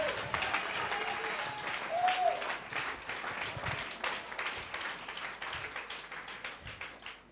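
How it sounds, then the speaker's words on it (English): Church congregation claps hands together, forming a dense, lively wash of applause that starts strong and gradually thins and fades, with some faint voices underneath. "Come on and clap your hands and tell him thank you."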